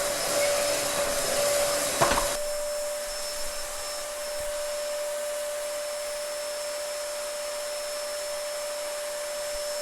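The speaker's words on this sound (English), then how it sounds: "I know you can't see me, but I am vacuuming." A vacuum cleaner powered by a portable solar power station runs steadily and loudly, a constant whine with a brief bump early on and no talking.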